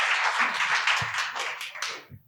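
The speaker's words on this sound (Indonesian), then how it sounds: "tepuk tangan untuk Tuhan Yesus." A church congregation applauds after a sermon, a dense wash of many hands clapping at moderate distance for about two seconds before quickly dying away.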